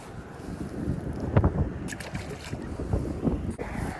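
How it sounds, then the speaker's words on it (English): Wind blowing across a lake during a fishing outing, a steady rushing wind noise buffeting the microphone with a few louder gusts, no one talking. "So the wind's blowing that way"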